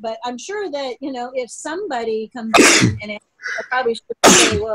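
Two sharp, loud sneezes burst out between stretches of casual conversation on a talk show, the second coming near the end.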